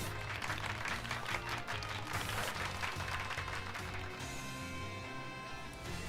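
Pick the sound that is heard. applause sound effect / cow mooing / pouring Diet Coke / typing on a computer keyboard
applause sound effect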